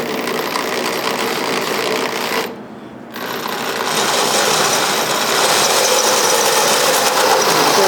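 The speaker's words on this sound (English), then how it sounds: "Put your drill into the hole and start cutting" A power drill with a cutting bit bores through a metal ammo can, a loud, continuous grinding whir that briefly drops off near the middle before resuming steadily.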